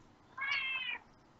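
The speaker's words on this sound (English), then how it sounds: "That's a cat." A single drawn-out cat meow, moderately faint and steady for about half a second, rising out of a quiet indoor background with no talking.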